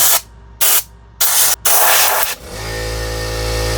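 Short hard blasts of compressed air blow out parts of an RC truck during a rebuild, three loud hissing bursts, then an air compressor motor kicks on with a steady low hum.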